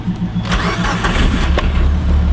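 An EVO car engine with a twin-disc clutch cranks with a few sharp clicks, then catches and settles into a loud, steady low rumble close by, with no voices.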